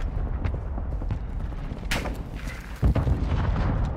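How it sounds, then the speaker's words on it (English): Mortar rounds strike in Call of Duty: Modern Warfare II, heard as a dense battlefield rumble of booms and gunfire, with a sharp burst near the middle and a heavy thud toward the end. "Hostile mortar strike near your position."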